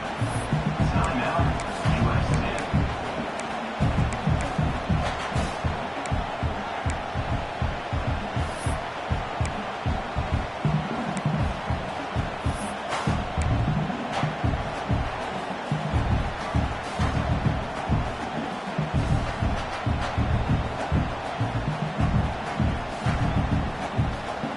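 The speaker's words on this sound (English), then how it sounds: "This crowd is trying to inspire this defense to make a big red zone stop." Stadium crowd noise in College Football 25 swells during a red zone defensive stand, a loud sustained roar under steady play-by-play commentary.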